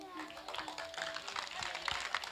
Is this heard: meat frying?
no